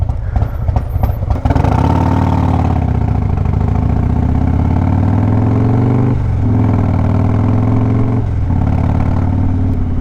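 A Harley-Davidson Road Glide with a performance cam rumbles loud and close through city streets, its engine note rising and settling across several throttle changes with brief dips between them.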